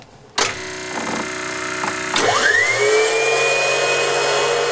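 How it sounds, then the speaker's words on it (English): A sharp click, then an electrical whine that rises steadily in pitch and settles into a sustained high tone over a low machine hum, as switches come on in a Huey helicopter before the rotors start. "there's no other sound like the switches coming on in a Huey helicopter"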